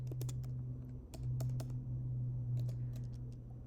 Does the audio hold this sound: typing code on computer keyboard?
yes